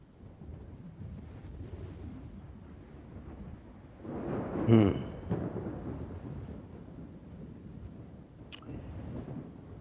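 A low, rolling rumble of distant thunder swells midway through steady rain and wind noise as a storm approaches, with faint ambient hiss throughout and no voices.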